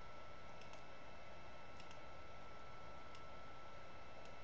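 Light, quick keystrokes on a computer keyboard, a handful of soft clicks spaced irregularly over a steady faint background hiss, close and quiet with no talking.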